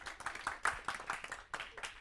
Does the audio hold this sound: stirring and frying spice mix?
no